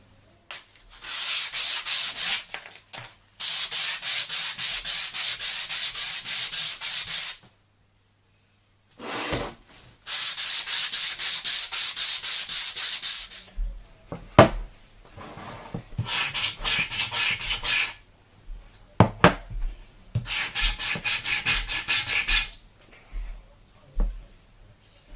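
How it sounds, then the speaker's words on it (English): Hand sanding a wooden harp part with 180-grit sandpaper at home, long steady scratchy strokes in bursts with brief pauses, close and fairly loud, no talk. "Going through a lot of sandpaper now."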